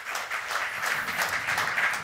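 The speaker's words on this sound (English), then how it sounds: "please give her a warm applause" Dense, steady applause from an audience welcoming a guest speaker at a talk event, a continuous wash of many hands clapping together at even volume for the whole stretch, with no speech over it.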